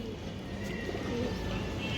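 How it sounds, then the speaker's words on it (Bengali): A pale sobji hen pigeon of an old bloodline, metal-tagged on the leg, gives low continuous cooing at close range, alone with no talking. "এই যে দেখেন পুরান জাতের একটা সবজি মাদি কবুতর"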